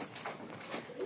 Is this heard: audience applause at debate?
no